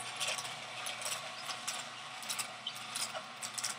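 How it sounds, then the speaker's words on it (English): An Omega 8004/8006 masticating juicer running, a steady low mechanical whir with faint irregular clicking and grinding throughout, fairly quiet and close, with no talking. "The juicer's running right now. It's pretty quiet."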